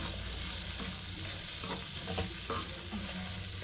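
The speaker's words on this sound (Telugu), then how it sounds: "ఇంకేమేయదు, ఇది వేగాలి కొంచెం" Ivy gourd pieces fry in a pan with a dense, continuous hiss of sizzling oil and a few soft stirring scrapes, close and steady with no talking.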